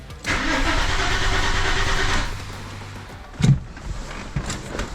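An Audi A6 engine cranks over on a new battery during a compression test, a steady whirring starter for about two seconds, then stops; a couple of clunks follow.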